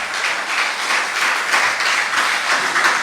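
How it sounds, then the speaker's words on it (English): A crowd at a political community event claps loudly and continuously, the dense patter of many hands swelling slightly in waves for about three seconds. "Clap for that."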